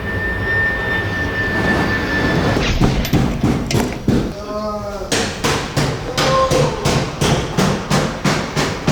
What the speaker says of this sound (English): We'll check, and then probably hammer some more.